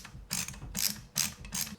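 A ratchet removes the screws holding a Mercedes headlight unit, making four short, close bursts of rapid clicking in steady alternation, with no talk.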